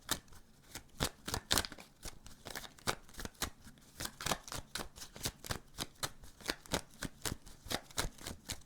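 Tarot cards are shuffled by hand close up, making a fast, rhythmic run of crisp riffling slaps that repeats steadily with no talking.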